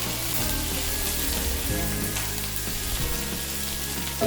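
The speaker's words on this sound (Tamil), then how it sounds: "கொத்தமல்லி இலையை சேர்த்துட்டு இதையும் ஒரு 30 செகண்ட் வதக்கி விட்டாலே போதும்." Small onions and coriander leaves sautéing in a pan for onion chutney: a steady, dense sizzle and crackle that stays constant throughout, with no talking.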